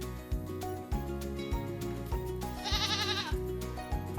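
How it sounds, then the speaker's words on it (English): A goat gives a single wavering bleat partway through, heard over a steady, rhythmic backing music track with a repeating bass pattern. "Goat."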